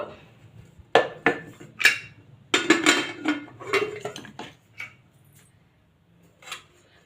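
Dishes being washed by hand in a home kitchen, with irregular clattering knocks of steel pots and utensils against each other, loud bursts then quieter scattered clinks, no voices.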